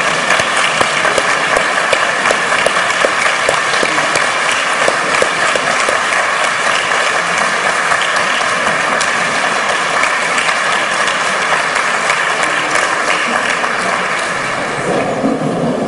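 Sustained loud applause from an audience at a leadership award ceremony, a dense, even roar of clapping that carries on steadily for the whole stretch and thins only slightly at the end.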